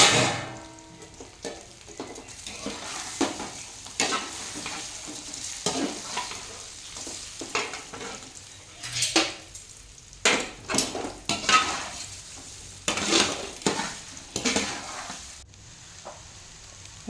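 Rava dhokla pieces stirred in a pan with chopped chilies, a spoon scraping and clacking against the metal in an irregular rhythm over a soft sizzle of oil.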